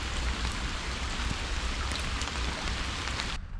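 Heavy rain falls outdoors in a wildlife habitat, a dense steady hiss of drops spattering nearby that cuts off abruptly at the end.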